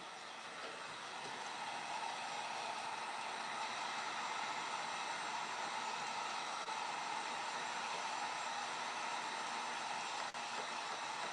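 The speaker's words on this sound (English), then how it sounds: "if you don't have a heat gun, this is where you would use your hair dryer" A steady, loud rush of blown air from a heat gun drones continuously close by without pause.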